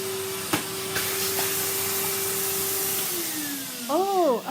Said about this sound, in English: Oh, I forgot to vacuum my gloves. Look, I'll do a quick one.